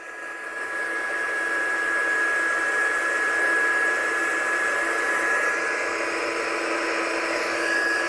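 A hair dryer runs steadily and loudly, blowing air to dry masking fluid on a painting, with a constant whirring roar that holds almost unchanged from start to finish.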